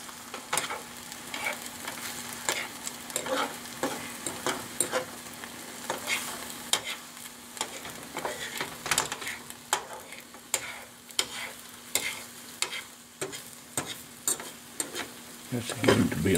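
An egg fries on a griddle for a big breakfast bun, a steady sizzle running throughout while a spatula scrapes and taps repeatedly as the edges are raked inward, ending with a louder scrape.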